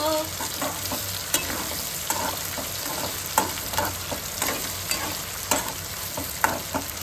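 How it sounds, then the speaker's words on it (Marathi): Green chillies sizzle steadily in oil in a pan while being stirred for sabudana khichdi, with repeated scraping stir strokes over the constant frying hiss, close up and with no talking. "यामध्ये मिरच्या तळवण्यासाठी तळू द्यायचं मस्त."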